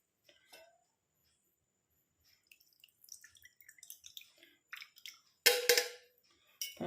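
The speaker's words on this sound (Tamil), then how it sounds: "இந்த மாதிரி ஒரு பவுலில் நம்ம ஃபஸ்ட்டு ஃபில்ட்ரு பண்ணிக்கலாம்." Liquid drips through a filter into a bowl in a kitchen, with sparse faint drips building to denser splashes and a few louder bursts near the end, otherwise quiet.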